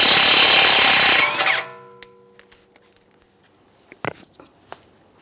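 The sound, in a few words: tool removing tie rod mounting nut, 19mm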